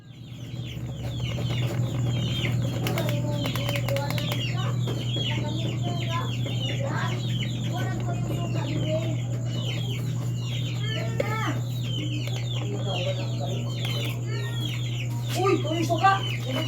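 Young chicks in a small, crowded backyard coop cluck and cheep constantly at close range over a steady low hum, with a few louder calls near the end.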